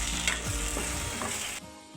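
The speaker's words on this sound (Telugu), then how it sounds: "కాస్తంత టమాటా సాస్ బాగా తిప్పుకోవాలన్నమాట." Tomato sauce is stirred into a mushroom curry in a hot pan, a spoon scraping and swirling through a steady low sizzle before the sound cuts off near the end.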